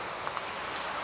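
Rain falls steadily, a dense close hiss with a few faint drip taps on a surface, continuous and without voices.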